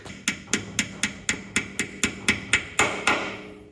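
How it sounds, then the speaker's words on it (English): Regular metallic hammer blows on a fuel tank sender flange of a 1982 Holden WB ute, about a dozen evenly spaced strikes ringing close by, each with a short bright decay. "and just hammer that down"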